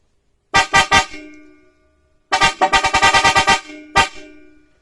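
A loud custom-built car horn blares three quick honks, pauses, then sounds a rapid run of about eight honks and one final blast.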